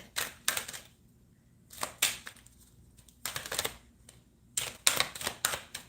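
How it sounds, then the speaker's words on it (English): A deck of tarot cards being shuffled by hand in bursts of crisp riffling and flapping, four or five clusters separated by short pauses, close and clear with no talk. "These cards are not the easiest to shuffle."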